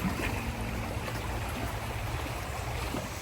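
Steady broadband rush of the Clinton River flowing, continuous and even, with no voices.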